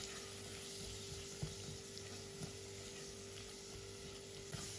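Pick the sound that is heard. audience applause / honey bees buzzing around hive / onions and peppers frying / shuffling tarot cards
onions and peppers frying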